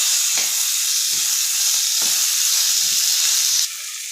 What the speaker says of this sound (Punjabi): ਹੁਣ ਆਪਾਂ ਇਹਦੇ ਵਿੱਚ ਪਾਵਾਂਗੇ ਟਮਾਟਰ ਇਹ ਵੀ ਆਪਾਂ ਚੰਗੀ ਤਰ੍ਹਾਂ ਜਿਹੜੇ ਭੁੰਨ ਲੈਣੇ ਜੀ